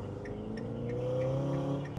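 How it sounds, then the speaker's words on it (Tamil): A 2016 BMW M6 with a V8 engine revs in a smooth, rising drone, its pitch climbing steadily over two seconds with a faint tire-like squeal on top and no talking. "அந்த V8 இந்த சத்தம் நல்லா தான் இருக்குது"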